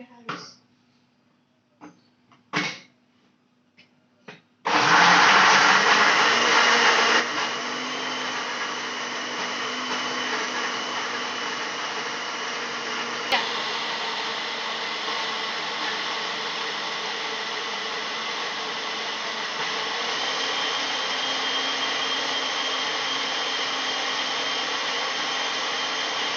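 An electric blender grinds chopped ingredients into a smooth spice paste, starting with a few short pulses and then running continuously as a loud, steady whir.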